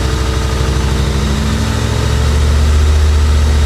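A Chevy Corvette recovered from a Florida swamp idles with a deep, rumbling engine note, then rises as throttle is gradually added, the low drone swelling louder near the end.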